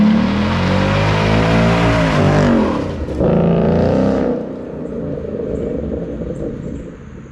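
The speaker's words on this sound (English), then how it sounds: "This is how we break in new tires." A Roush Mustang does a burnout on new Velgen wheels and tires, its engine revving loud and close in rising and falling sweeps while the tires roar and squeal, then the revs drop to a lower rumble.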